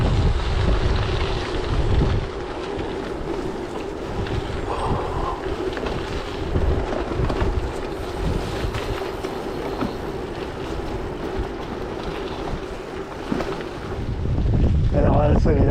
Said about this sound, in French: Sauf qu'on a le vent dans la gueule.